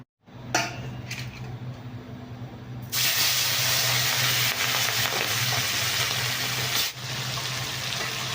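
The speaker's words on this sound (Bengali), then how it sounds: "এখানে ইলিশ মাছগুলো হালকা করে ভেজে নিই" Hilsa fish pieces fry lightly in oil, a steady broadband sizzle with a low hum underneath, growing louder and denser after a few seconds and holding continuously, with occasional clinks of a utensil.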